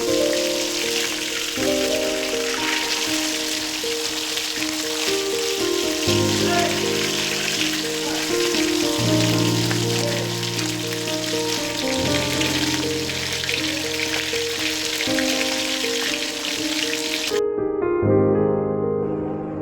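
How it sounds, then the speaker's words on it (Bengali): Large folui (featherback) fish fry on a griddle with a steady, rain-like sizzle throughout, while sustained musical tones play underneath. "ফলুই মাছগুলো বেশ বড় তাই কড়াইয়ে আর ভালো ভাজা হচ্ছিল না তাই তাওয়াতে আবার ভেজে নিচ্ছি আমি"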